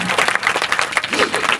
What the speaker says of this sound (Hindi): तो प्रधान जी के लिए जोरदार ताली बजा करके स्वागत करें।